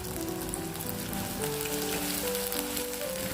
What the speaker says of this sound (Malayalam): ഇനി ഇതിലേക്ക് സവാളയും പച്ചമുളകും ചേർത്ത് നല്ലതുപോലെ ഒന്ന് വഴറ്റിയെടുക്കുക.